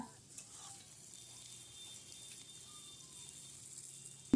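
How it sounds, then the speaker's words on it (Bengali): Cauliflower florets frying in a pan for a roast dish, a faint, low steady sizzle with soft stirring scrapes, quiet and close, ending with a sudden brief clunk. "ভালোভাবে ভাজা হয়ে গেছে ফুলকপি"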